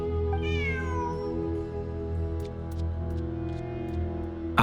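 Cat meowing in the video game Genshin Impact during ruins exploration, a single rising-then-falling meow near the start over a steady humming musical drone, followed by faint ticking clicks.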